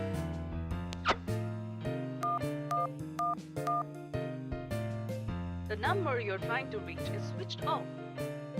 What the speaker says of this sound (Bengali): একবার ফোন করে দেখি